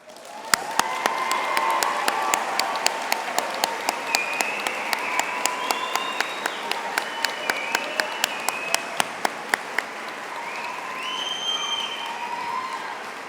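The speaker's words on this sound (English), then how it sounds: "This is a clappy, cheery crowd" A commencement crowd applauds steadily with a dense wash of clapping, with cheers and whoops rising over it and a few sharp, close claps standing out before the applause slowly thins.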